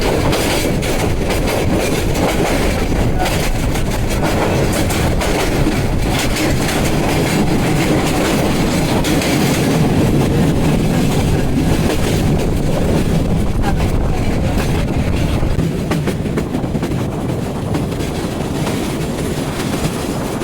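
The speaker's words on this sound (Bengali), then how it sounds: "কালদি এক্সপ্রেসকে বসিয়ে দিয়ে আমাদের ট্রেন ছুটে চলে যাচ্ছে" The Parabat Express intercity train runs fast on the rails, a loud continuous rumble and rattle with wind roar and rhythmic clatter heard from on board for the whole stretch.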